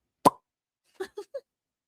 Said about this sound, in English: we just heard the cork pop